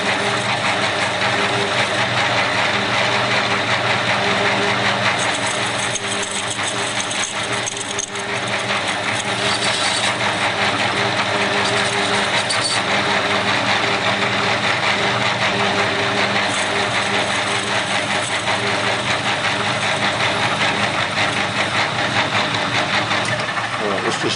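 A metal lathe takes a trial facing cut on the end of a brass ornamental flask, turning it down toward 16 millimetres; a steady, close, continuous machining whir with faint high scraping runs throughout without pause.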